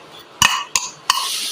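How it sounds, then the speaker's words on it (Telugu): A metal spoon stirs sugar into a drink, striking the glass in three sharp, close clinks spaced about a third of a second apart, with quiet in between. "షుగర్ మిక్స్ చేసేసుకుంటాను."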